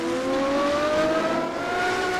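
Racing car engine in Assetto Corsa at Le Mans, revving continuously with rising tonal whine, a second layered engine note running alongside, steady and fairly loud.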